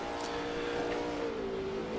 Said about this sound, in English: I love how the revs rise as you jump over the crest there.